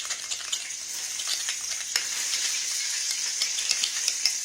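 A spoon stirs mayonnaise, mustard and honey together in a bowl, giving soft, steady scraping and light ticking clicks, fairly quiet and close, with no talking.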